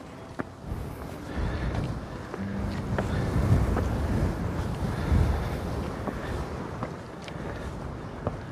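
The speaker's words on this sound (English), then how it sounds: "Oh, it is so windy." Strong wind roars and buffets the microphone continuously at Theodore Roosevelt National Park, North Dakota, with a steady rushing blast and occasional gusts, no voices.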